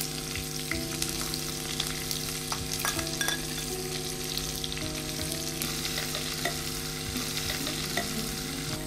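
Chopped onions frying in a pan with cashews, a steady loud sizzle with occasional stirring scrapes and clinks running throughout, no voices.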